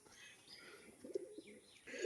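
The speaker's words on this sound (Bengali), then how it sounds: "এক জোড়া পায়রা পুরো একই রকম" Soft, low pigeon coos come in two short bursts, quiet and close, with a faint airy background.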